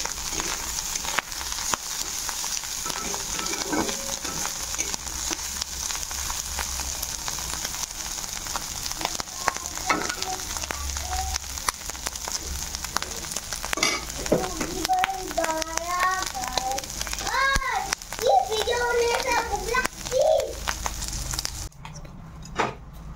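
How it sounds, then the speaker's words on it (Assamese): Dried fish fries in a pan with a steady crackling sizzle, close and continuous, with occasional stirring and faint voices in the background. "মোৰ শুকান মাছখিনি ধুনীয়াকৈ ভাজি লৈছোঁ।"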